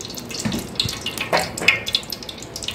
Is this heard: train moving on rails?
no